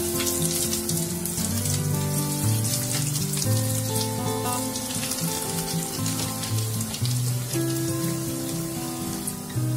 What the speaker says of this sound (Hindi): इन्हें हमें ब्राउन होने तक फ्राई करना है।